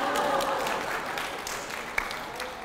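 An audience at a Korean history lecture claps, giving a short, steady burst of indoor applause that fades slightly over a few seconds.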